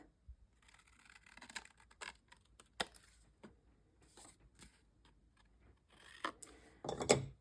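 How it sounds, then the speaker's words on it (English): Scissors snipping through card stock, a few faint, sparse clicks and cuts in a quiet room, ending with a brief louder rustle. "I just take my scissors and cut through this X here just to get this corner off."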